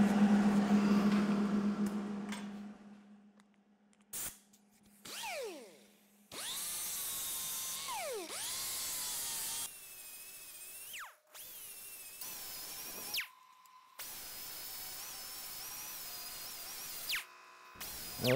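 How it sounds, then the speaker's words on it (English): Grinder working down a welded shift knob from a Revolution Knob Kit, a loud whine that starts, stops and restarts in bursts of shifting pitch, with brief pauses between passes. "Let's grind it down and see what we got."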